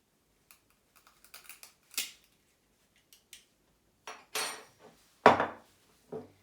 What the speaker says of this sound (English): Now we're going to take our other egg and use the back of our teaspoon.